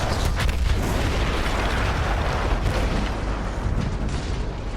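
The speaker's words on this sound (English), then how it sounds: "That explosion was one of the sweetest sights of the war for me." Loud, sustained booming explosion from the World War I shooter Battlefield 1, a dense rumbling blast with crackling debris that fills the whole stretch without any talking.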